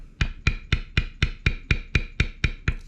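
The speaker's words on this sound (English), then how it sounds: "I'm going to bevel one side of the line" A mallet strikes a leather beveler while tooling a basketweave pattern, about ten crisp, evenly spaced taps at a steady rhythm, close and clear with nothing else heard.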